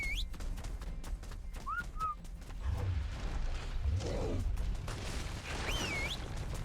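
Whistle commands in the survival game Ark aimed at Rex dinosaurs: rising and falling whistle tones over a busy mix of game noise, with low booms and rumbling creature sounds, and no speech.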